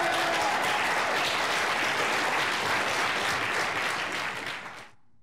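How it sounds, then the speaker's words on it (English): A crowd gathered in a lobby for the gravitational wave detection announcement bursts into loud, dense applause and cheering that holds steady, then fades quickly to silence near the end. "The crowd in the lobby cheered with excitement"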